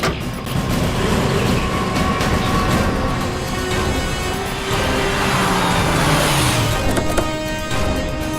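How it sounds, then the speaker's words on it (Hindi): A car reversing after going off the road at a crime scene, with a steady broadband engine rumble throughout and a faint rising whine toward the end, a noisy outdoor bed underneath. "गाड़ी रास्ते से नीचे उतर गई है, जरा पीछे लो।"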